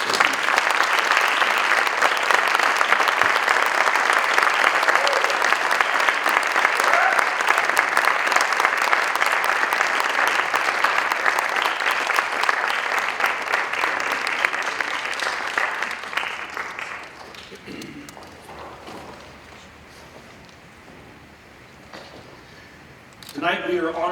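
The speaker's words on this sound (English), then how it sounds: "Please join me in giving them a warm round of applause to our class of 2024 Hall of Fame honorees" An audience at a school district sports Hall of Fame induction ceremony applauds warmly for the class of 2024 honorees, a dense, loud sustained round of clapping that fades out after about seventeen seconds, followed by quiet room noise.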